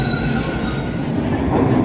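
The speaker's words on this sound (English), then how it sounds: "we're in the train station there" A train rolls through a station with its wheels squealing, a loud, continuous metallic screech over a dense rumble, close by and with no voices.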